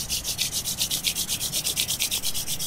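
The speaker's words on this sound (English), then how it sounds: "Now rub your palm together" Palms rubbing briskly together during a yoga routine for skin care, a steady back-and-forth hiss repeating about fifteen times in an even rhythm, close and clear with no voice.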